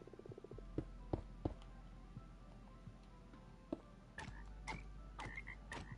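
A frog in a building video game croaks in short, sharp, close bursts, a few sparse calls then a quicker cluster near the end over a low steady hum, with no talking.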